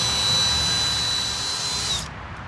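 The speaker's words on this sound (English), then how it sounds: "attach it onto your drill, work it in slow." A power drill spins a Flitz buff ball while polishing oxidized paint, a steady close whine with a thin high tone that runs throughout and winds down sharply near the end.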